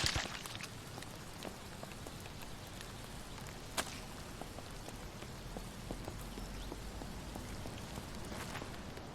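Rain in the zombie survival video game Vein, a steady soft patter of raindrops on surfaces with scattered sharper drips and taps, fairly quiet and continuous with no voices.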